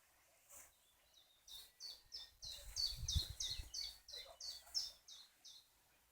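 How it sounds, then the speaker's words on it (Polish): Small birds sing in a garden allotment in July, a faint, distant series of about a dozen evenly spaced high chirps repeating in a steady rhythm over a low, soft background murmur, with no voices. "Ptaszki śpiewają."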